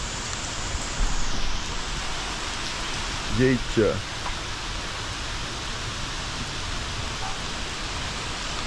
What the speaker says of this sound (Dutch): Het regent echt hard.